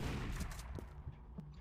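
A short burst of gunfire in the horror video game Be Quiet, a couple of quick muffled shots over a dense, noisy in-game background at fairly low volume.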